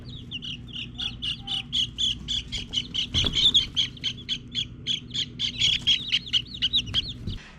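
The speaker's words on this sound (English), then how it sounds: "We hatched out chickens." Newly hatched chickens peep in rapid, repeated high chirps, a steady close-up stream of small calls with a brief thump partway through.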